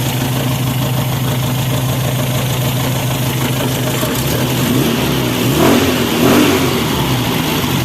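A Toyota 4K engine runs unevenly at idle with a shaky, vibrating rhythm, then revs up briefly twice near the end, loud and close.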